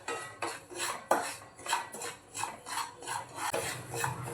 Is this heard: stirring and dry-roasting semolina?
yes